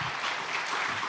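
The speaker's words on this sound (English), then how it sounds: "big round of applause" Brief applause from a conference audience after a panel discussion, a soft, distant patter of clapping lasting about a second.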